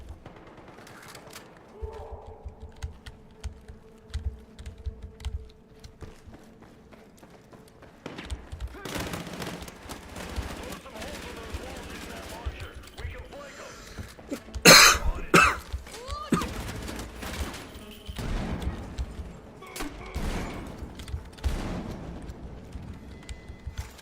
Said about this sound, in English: there's explosions everywhere, guys